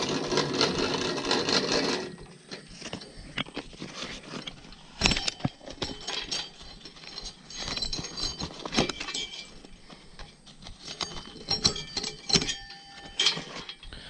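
Old steel cable being worked off a hay dolly trailer winch: loud scraping and rattling for the first two seconds, then scattered metallic clinks, clanks and taps, close and without talk.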